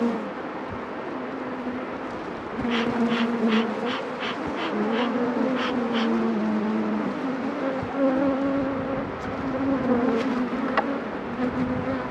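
Honeybees swarm and hum around a split beehive, with nurse bees clustering at the bottom. A steady, close buzz runs throughout, with a brief burst of sharper, higher whining wingbeats partway through.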